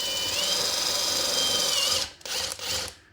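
A power drill drives a screw into a wall stud, giving a steady high whine for about two seconds that then stutters into a couple of short bursts, close and fairly loud with no talking.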